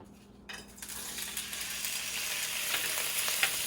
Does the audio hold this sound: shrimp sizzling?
yes